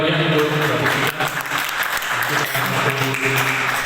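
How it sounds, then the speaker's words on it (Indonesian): An audience claps warmly for Puspita in a dense, continuous round of applause that runs the whole time, with voices and some tonal background sound underneath. "Beri tepuk tangan yang meriah untuk Puspita."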